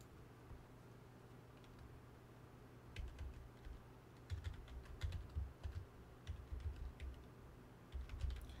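Bursts of typing on a computer keyboard, quick clicky keystrokes in irregular clusters after a quiet opening, close and fairly faint over a low background hum.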